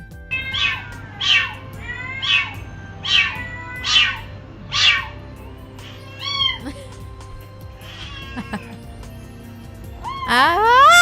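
A cat meows repeatedly, about seven drawn-out meows in a steady rhythm, close and loud, ending in a rising, strained yowl.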